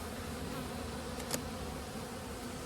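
Honey bees buzz in a dense, steady drone over open hive frames during a fall inspection, a constant close hum with no talk.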